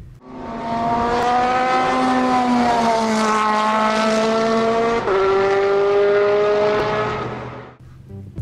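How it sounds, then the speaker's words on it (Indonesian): An Audi R8 LMP Le Mans prototype race car roars past, its engine note loud and sustained, pitch climbing and then dropping sharply as it shifts, before fading at the end. "Dan ini adalah Audi R8 LMP."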